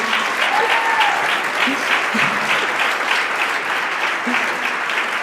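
A church congregation applauds, a steady, full wash of many hands clapping together, loud and continuous for several seconds without talk over it.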